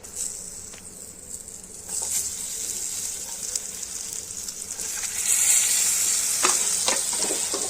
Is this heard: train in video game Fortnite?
no